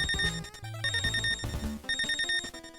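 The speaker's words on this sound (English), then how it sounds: "when you start running out of health, the game makes sure that you are well aware of this fact by sounding an alarm" Low-health warning alarm from the NES game Teenage Mutant Ninja Turtles: a shrill electronic beeping that repeats steadily over busy chiptune background music, with no talking.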